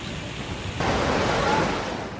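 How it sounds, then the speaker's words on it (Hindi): Floodwater from a cloudburst rushes through houses, courtyards and doorways in a village beside the Manjhi river, a loud, broad, continuous roar that swells suddenly partway through. "घर, आंगन और दरवाजे से पानी ऐसे गुजर रहा था कि दहशत पैदा हो जाए।"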